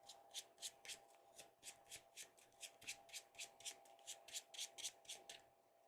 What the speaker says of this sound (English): So now we're going to shuffle this up because we're done.